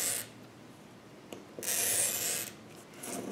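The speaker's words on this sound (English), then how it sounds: "I'll take my cutter. I'm going to cut approximately, you know, quarter inch" A glass cutter scores dichroic glass into quarter-inch strips, giving brief, faint scraping rasps: a quick tick near the start, then a louder sustained score and a shorter one toward the end, close and alone.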